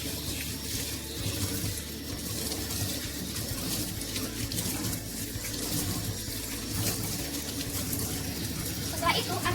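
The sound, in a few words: running tap water rinsing hands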